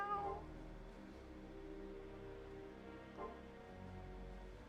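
A cat's meow from the PS2 video game The Sword of Etheria, a short tonal call at the start with a faint second one later over a steady game music bed.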